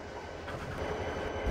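A stock train pulling into a station, a steady low rumble of rolling rail cars that grows slightly louder toward the end, with no one talking.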